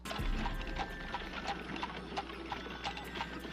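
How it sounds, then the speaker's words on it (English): Horse hooves clip-clop at a steady, even pace as a horse pulls a carriage, the hoofbeats moderately close over a continuous low rumble, with no talking. "この馬車を引いてる馬"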